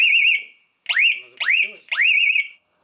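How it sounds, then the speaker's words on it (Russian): A shrill electronic fire alarm wails in four rising-and-falling bursts separated by short gaps, loud and close, inside an entertainment complex during a safety check. "Пронзительный звук пожарной сигнализации как свидетельство того, что оборудование работает исправно"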